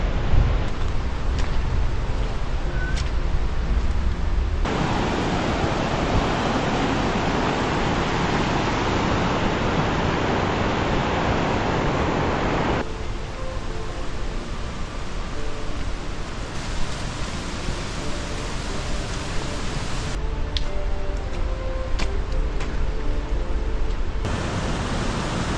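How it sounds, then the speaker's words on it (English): A large waterfall on the Annapurna Base Camp trail in Nepal during monsoon, a dense, loud, continuous roar of falling water that holds steady throughout, with no talking. "Biggest and longest waterfall on Annapurna Base Camp Trail."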